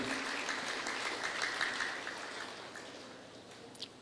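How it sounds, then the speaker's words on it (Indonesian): Applause from an audience at a university graduation ceremony in Indonesia, a broad steady patter that starts moderately loud and gradually tapers off. "Tepuk tangan untuk beliau."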